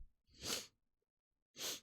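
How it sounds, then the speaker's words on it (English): A woman sneezes indoors: two close, breathy bursts about a second apart, the first with a short intake of breath before it, with silence between them. "She's sneezy."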